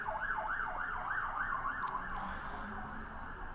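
A wailing emergency siren rises and falls steadily, heard at a distance beneath a constant low background rumble.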